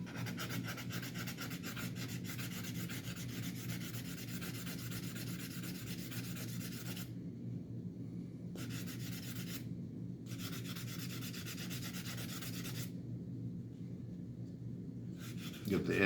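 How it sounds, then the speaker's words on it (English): Steady hand sanding of a Cold Steel Recon 1 knife part, a continuous close scratchy rubbing with a few brief pauses and a small knock at the end. "So I'm gonna go ahead and hand sand this piece."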